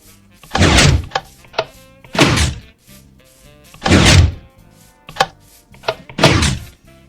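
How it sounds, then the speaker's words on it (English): Wooden doors in Minecraft Xbox 360 Edition open and close repeatedly, giving four heavy, evenly spaced thunks with lighter clicks between them, loud and close with no talk. "you could see that the door opens and closes"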